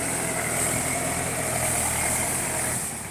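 Large tractor engine idling nearby, a loud, steady rumbling drone with a constant hum throughout.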